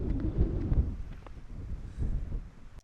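Gusty wind buffets the microphone on an early-morning Cornwall coast path, a continuous low rumble that surges and eases, louder near the start and again around two seconds, with no voices.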